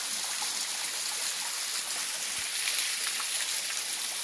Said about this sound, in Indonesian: Kita berkunjung ke air terjun Boto Helili, Desa Tapaluluo, Kecamatan Telaga Biru, Kabupaten Gorontalo